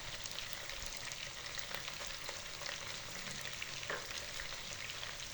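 Chicken frying in ginger garlic paste for a chicken korma, a steady close sizzle with small stirring clinks and scrapes throughout, no voices.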